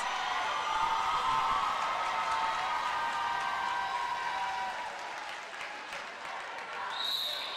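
Home crowd at a junior roller derby world cup bout between the USA and Australia, a loud, sustained roar of cheering and applause filling the venue and easing slightly toward the end.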